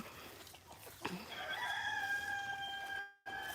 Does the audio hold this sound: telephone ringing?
no